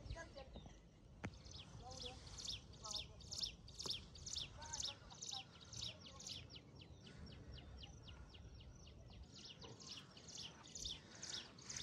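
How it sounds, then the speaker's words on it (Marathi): Birds chirp and sing repeatedly at a rural roadside, a fairly distant, quiet run of rhythmic high tweets in regular bursts over soft background rustle and faint voices. "इकडे आता पक्ष्यांचा आवाज बघा ऐका"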